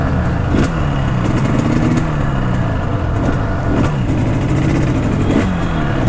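A tuned Yamaha RD350 two-stroke motorcycle with an aftermarket exhaust revs steadily and loudly up close, its engine note rising and falling in repeated throttle blips over about six seconds with no talking.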